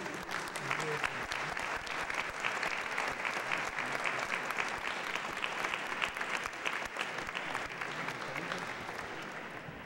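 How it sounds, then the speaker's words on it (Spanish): An audience at a university lecture session gives a contest juror a long, even round of applause, with dense steady clapping heard at a moderate distance, while faint voices murmur underneath. "a Rocío Castelo, a quien pido un fuerte aplauso"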